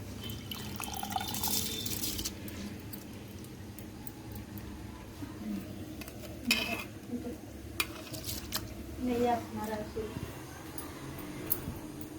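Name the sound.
water being poured into soaked rice for biryani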